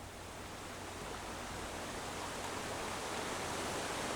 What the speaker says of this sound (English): This is a big waterfall sound